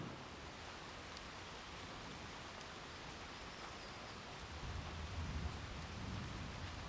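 Steady, soft rain hiss in a Thai forest wildlife sanctuary fills the air, constant and distant, with a faint low rumble building slightly toward the end.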